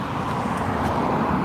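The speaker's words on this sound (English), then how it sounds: "As I'm close to the road, you're going to hear a car go by." A car passes on a nearby road in a quiet rural setting, its tire and engine rumble heard as a steady, fairly loud wash of traffic noise that holds for the whole moment.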